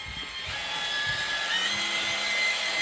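A power drill bores through bathroom tile on a plumbing service call, giving a continuous high grinding whine at moderate distance with faint knocks underneath and no talking.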